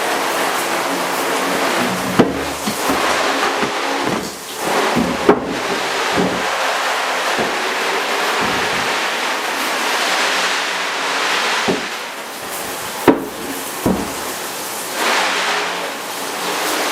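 Water runs and splashes steadily over a T-shirt printing screen as chemical residue is rinsed off, a loud continuous hiss with occasional sharper spatters and knocks.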